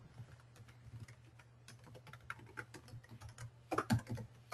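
Fingers tap out an email address on a computer keyboard in a steady run of quick keystrokes, with a low constant hum underneath and a louder cluster of key presses near the end.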